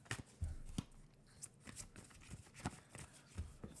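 A deck of reading cards is shuffled during a card-reading session, giving quiet, papery riffles and soft flicks in uneven bursts, close but faint.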